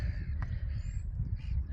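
Crows cawing on a quiet, chilly early morning outdoors along an empty path, a brief call standing out over a low steady rumble of distant background noise.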